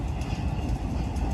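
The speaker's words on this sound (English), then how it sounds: "Lehigh Railway with their U-boats," Lehigh Railway U23B diesel locomotives roll into Sayre Yard, Pennsylvania, with a steady, close rumble of engine and wheels throughout a very short moment.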